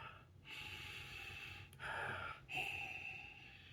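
Someone inhales deeply through the nose over a glass of 60-degree rum, taking three close, quiet sniffs of rising and falling breath with short pauses between them.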